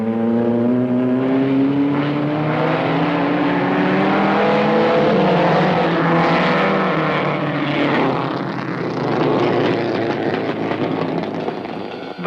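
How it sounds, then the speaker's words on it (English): A Shelby Cobra race car, a light English body with an experimental Ford engine, races past in a loud, sustained engine howl with rising pitch sweeps, swelling and easing slightly before surging again, with no talk over it. "The new Cobra combines a light English body with a powerful experimental Ford engine."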